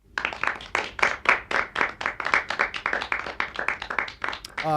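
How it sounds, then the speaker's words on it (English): A golf clap: rapid rhythmic clapping by one or a few people, close and fairly loud, a brisk run of hand claps lasting several seconds. "Where's my golf clap?"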